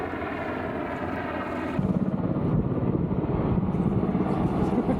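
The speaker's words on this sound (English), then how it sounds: "That's a huge helicopter." A loud helicopter drones steadily overhead, its rotor thumping grows more pronounced partway through, a continuous heavy engine roar throughout.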